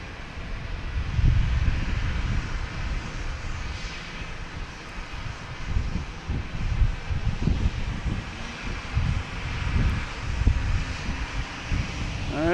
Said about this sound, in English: Next coming in is American Airlines and E145 coming in from Syracuse